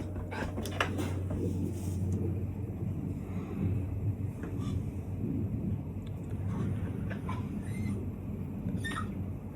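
Strong wind buffets an outdoor microphone in Ukraine with a constant low rumble and roar, broken by faint scattered clicks and rustles throughout.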